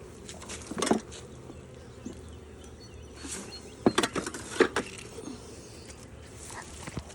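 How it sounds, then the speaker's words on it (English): Honey bees buzzing around an open beehive with brood frames being inspected, a steady close insect hum with scattered sharp handling knocks and rustles over it. "a lot of them bees are coming from down here"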